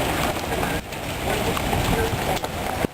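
Hail and heavy rain falling during a severe thunderstorm, a dense, loud, continuous patter and hiss close by, with a few sharper knocks.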